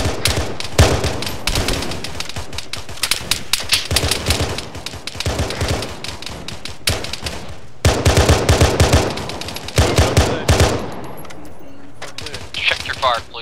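Assault rifle fire in a Halo mod military operation, with rapid bursts and continuous automatic volleys running throughout, loud and close, while voices talk over the shooting.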